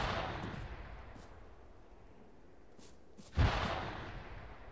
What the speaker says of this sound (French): Il tire sur quelqu'un d'autre encore là?